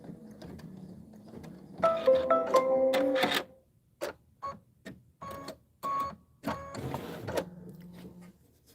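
Embroidery machine sewing a placement stitch, rapid mechanical stitching runs broken into short separate bursts with brief pauses between, close and fairly quiet, no talking.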